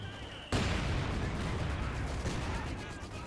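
Sustained burst of gunfire and explosive blasts erupts suddenly in a Company of Heroes 2 battle, dense and continuous after a quiet start.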